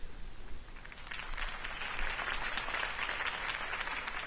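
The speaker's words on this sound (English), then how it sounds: "could have heard that applause" Steady applause from a crowd, many hands clapping together in a dense wash that swells slightly and holds for several seconds.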